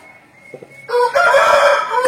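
An aseel rooster of about 4.5 kg crows loudly and close by, one sustained call that rises out of quiet background clucking.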